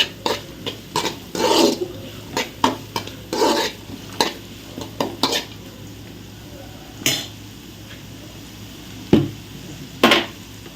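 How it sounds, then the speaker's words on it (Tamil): Carrots and mixed vegetables sautéed in a pan, with repeated brisk scrapes and clinks of a spoon against the pan over a quiet sizzle, in irregular bursts. "இப்போ நம்ம கேரட் போட்டுக்கலாம் காய்கறிகள் எல்லாம் நல்லா வதங்கட்டும்"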